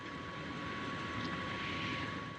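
Engine of a DHC-4 Caribou warming up in Microsoft Flight Simulator, a continuous steady droning hum with a faint tonal whine, even and unbroken throughout, with no talk.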